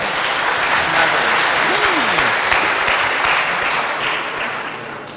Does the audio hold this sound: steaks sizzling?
no